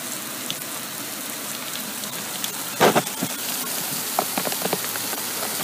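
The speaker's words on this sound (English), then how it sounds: "It won't actually start going into the tank until the rain starts really coming down." Rain running off a roof and down a downspout into a rainwater vortex filter in Houston, a steady hiss of falling water with a few louder splashes and drips nearby.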